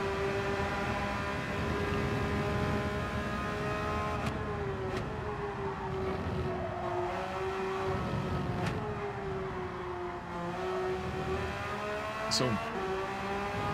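A race car engine in Gran Turismo 7 on the Suzuka circuit holds a steady high whine that slowly drops in pitch as it winds down, loud and continuous with brief talk over it.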